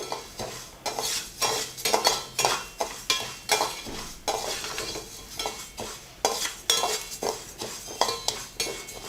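Puffed rice being roasted in a pan over a low flame, stirred in regular rhythmic strokes; each sweep brings a rough, grainy scrape with light metal clinks, close and steady, with no speech.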